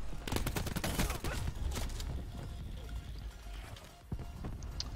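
Rapid bursts of explosions and gunfire from a cluster grenade going off in a shooter video game, crowded pops and blasts in quick succession through the first seconds, then a continuous busy rumble with another sharp hit near the end.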